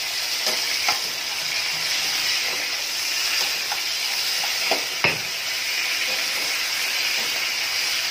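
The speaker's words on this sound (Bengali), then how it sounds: "চিকেনটাকে এরকম করে হালকা লাল লাল করে ভেজে নিয়েছি" Constant close sizzle of chicken frying in a pan, punctuated by several spatula scrapes and taps at irregular intervals; no speech.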